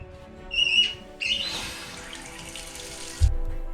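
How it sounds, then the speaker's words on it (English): Water rushes in with a steady hiss through a Fluidmaster fill valve, filling a toilet tank up close after a brief squeak at the start. "Now let's turn the water back on."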